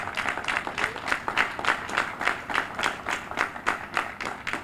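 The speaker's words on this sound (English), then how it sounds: "Give that a round of applause." A crowd claps at a Juneteenth flag raising ceremony in Milwaukee, outdoors, with rhythmic, pulsing applause that swells and dips in waves, moderately close and unaccompanied by talk.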